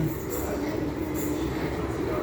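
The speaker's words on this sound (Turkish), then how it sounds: "Tren geliyor." A metro train arrives in a tunnel station with a steady, broad rumble and faint wheel noise close by, and a voice speaks briefly under it.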